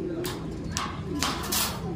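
Racing pigeons landing back at the loft after a training flight bring a few sharp bursts of wing flapping and shuffling over a steady outdoor background, with people talking nearby.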